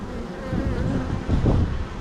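Dense, steady buzzing of honey bees crowding a hive frame during a colony inspection, a close, continuous drone that swells slightly toward the end, with no talking.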